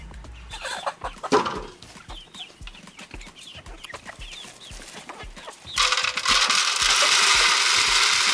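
Farm chickens clucking and squabbling over feed in a Jamaican farmyard, close and busy, with a louder burst of flapping and scratching toward the end; no talking.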